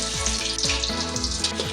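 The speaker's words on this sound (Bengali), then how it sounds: "তাতে তেল গরম করিয়া 5 ফোড়ন শুকনো লঙ্কা দিয়ে দিন।" Five-spice seeds and dried red chillies sizzle in hot oil in a kadai over a gas flame, a loud, continuous crackling fry with a few faint stirring scrapes.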